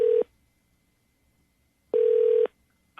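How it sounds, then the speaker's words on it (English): Ringback tone of an outgoing phone call: two steady electronic ring bursts, a short one then a longer one about two seconds later, with silence between, clear and alone. "it's ringing"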